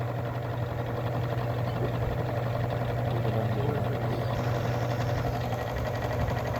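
An engine runs steadily during an oil additive demonstration while straining under friction, a constant low droning hum with a faint rattling texture, close and unchanging, with possible faint talk underneath.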